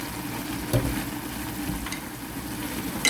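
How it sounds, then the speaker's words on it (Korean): Bean sprouts and fish cake are stirred and fried in a pan, a steady close sizzle with occasional scrapes and clatters of the utensil against the pan. "뚜껑 열고 콩나물하고 어묵을 골고루 섞어주세요."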